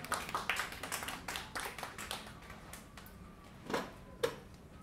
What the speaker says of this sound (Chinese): 掌声欢迎她